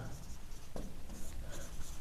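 Marker or chalk writing on a board during a Hindi maths lesson on adding natural numbers, a continuous scratchy scrawl with a brief squeak near the middle, heard close and alone without talk.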